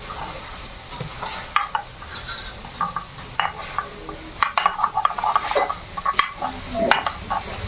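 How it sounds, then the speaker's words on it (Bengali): Ginger is ground by hand in a rustic village kitchen: close, irregular scraping strokes with occasional knocks, rising and falling in uneven bursts. "দেখো আদা বেটে নিচ্ছে করে।"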